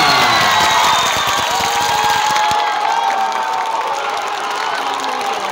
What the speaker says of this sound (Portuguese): Para os aplausos de vocês, Lorena Silva de Almeida!